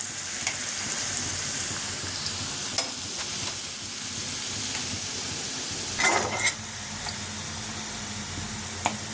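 Mushrooms fry in a pan for a curry, giving a constant close sizzle and hiss, with occasional scrapes and light clinks of a spatula stirring against the pan.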